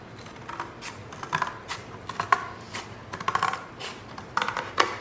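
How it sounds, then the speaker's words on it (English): Scissors cutting through cardboard at close range, giving sharp intermittent crunching snips and clicks in uneven clusters over a quiet background, with no voices. "I'm going to just place it on top of the cardboard and cut through it."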